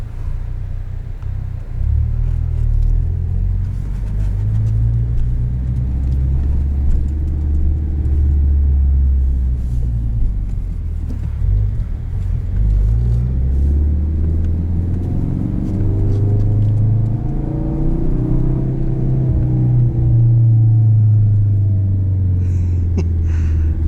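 A 2017 Ford Focus RS engine rumbles steadily while driving, its stock exhaust giving a low drone rising and falling with gentle revs, close and continuous throughout.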